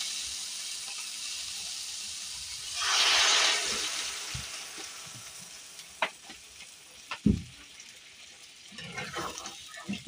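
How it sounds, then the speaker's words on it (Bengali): Fish curry with vegetables cooks in a pan, a quiet sizzle with a brief burst of hissing and a few scraping knocks as it is stirred. "একটু ভালো করে নেড়ে দিচ্ছি"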